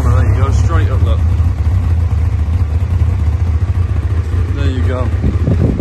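A 2003 Tiger Racing Avon kit car with a ZX9 engine fires up and settles into a steady, loud, close idle, with people talking briefly over the running engine.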